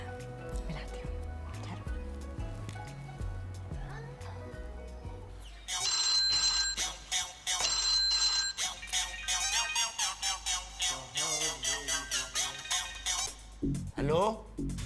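A telephone rings with a bright, repeating electronic melody, loud and close, over earlier background music, while people talk.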